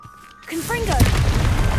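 A single Confringo blasting spell in Hogwarts Legacy detonates with a loud, deep boom after a brief whooshing rise, the blast's rumble sustaining to the end.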